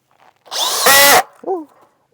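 A DeWalt DCD805N 20V cordless brushless impact drill runs in one loud burst of about a second, driving an old nut, with a short trailing squeal and whirr just after as it stops.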